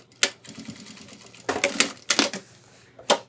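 Sewing machine making a short tacking stitch through a webbing loop on a homemade 30L ultralight backpack, a few quick bursts of clacking with brief pauses, close and moderately quiet.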